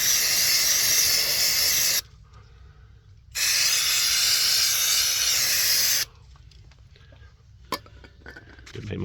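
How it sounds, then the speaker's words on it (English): Brake cleaner sprayed onto a VW PD150 TDI diesel engine comes in two long, loud bursts of hard, broadband hissing, each lasting a few seconds, with quieter workshop handling noises in between. "Just going to give this a bit of a clean up with some brake cleaner before I work on it all"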